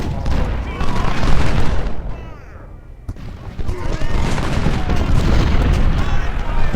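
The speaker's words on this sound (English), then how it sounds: "Going to lay some fire down on Franklin" Rolling musket volleys and booming fire from a First Bull Run Civil War battle game crackle loudly in repeated bursts, with a short lull in the middle and a voice talking over them.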